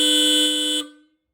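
A single loud, bright Hella Supertones car horn blast on a Genesis Coupe holds steady for under a second, then cuts off with a short ringing decay.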